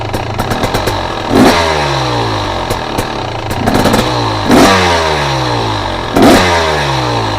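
KTM, Husqvarna or GasGas fuel-injected two-stroke dirt bike engine, loud close and uneven, with repeated revving blips rising and falling over a rough running note and sharp clattery pops, no talk.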